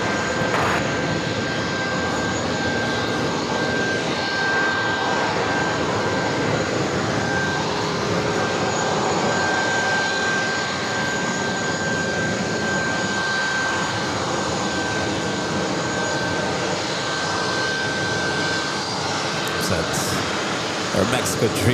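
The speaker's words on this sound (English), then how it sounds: "Next arrival is American Airlines Flight 168 coming up from Tokyo Haneda" An American Airlines Boeing 787-9 Dreamliner arriving at JFK from Tokyo Haneda roars with a loud, sustained jet engine rumble and whine, heard at an airport with voices talking over it.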